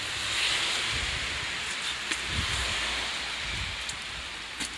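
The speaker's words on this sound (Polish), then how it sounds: "Dobra, zbijamy się, bo pada." Rain falls outdoors in a steady hiss, with a few faint taps and rustles nearby and no talk.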